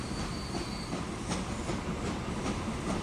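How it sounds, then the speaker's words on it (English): Constant rumbling noise of a Great Western steam freight train in the video game Transport Fever 2, with rhythmic chuffing pulses and a faint high whine, steady and fairly close, no talking. "Great Western engine"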